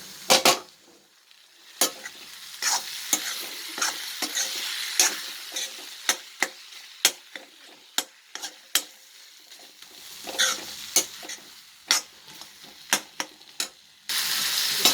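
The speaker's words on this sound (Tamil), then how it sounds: "தக்காளி நல்லா மசிஞ்சிடணும், முழிச்சிட்டு இருக்கக்கூடாது, தக்காளி இருக்குது தெரியக்கூடாது, அந்த மாதிரி நல்லா வந்து வதக்கிடணும்." Tomatoes being sautéed with ginger and garlic in a pan for Andhra-style country chicken curry, with a soft steady sizzle broken by repeated sharp spoon-stirring clicks and scrapes against the pan, with no voices.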